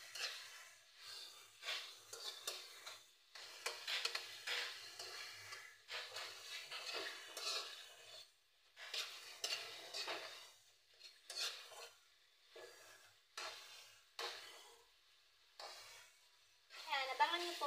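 A utensil stirring food in a pan while cooking a dinner dish, heard as repeated scraping strokes in short bursts separated by brief pauses, with a faint sizzle underneath.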